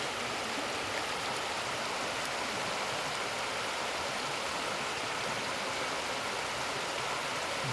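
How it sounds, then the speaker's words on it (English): Water streams steadily over stones in a Scottish or Lake District beck. It makes a continuous broadband rush that stays close and even throughout, with no voices. "how the water flows down through here"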